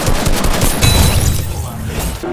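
Rapid gunfire from sniper rifles in the Fortnite Battle Royale video game, a dense run of booming shots that fades near the end, with faint speech mixed underneath.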